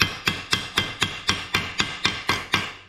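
Hammer blows on a bonnet hinge making jig for a pre-war Riley Brooklands: about eleven sharp metallic strikes in a steady, even rhythm, close and loud with no talk.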